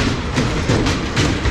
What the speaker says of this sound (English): One of them is this little Disney coaster, the little mine train.